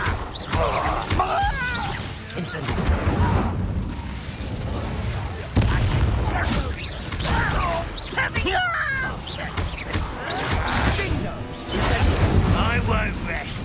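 Incendio fire spells burst out during a Hogwarts Legacy duel, with repeated loud blasts, crashes and thuds crowding together over about fourteen seconds while voices speak throughout.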